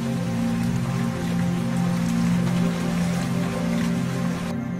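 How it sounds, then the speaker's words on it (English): Steady rain falling, a continuous dense hiss of drops spattering on a surface, fairly loud and unbroken, with no voices. "Rain falls into dining rooms and kitchens."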